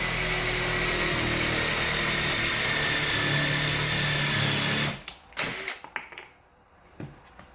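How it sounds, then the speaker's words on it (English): A power drill with a countersink bit whines loudly and steadily for several seconds while drilling into scrap wood, then stops, followed by a few short clatters and bumps. "take our countersink bit and then go ahead and drill it this way"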